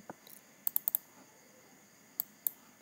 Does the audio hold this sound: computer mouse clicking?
yes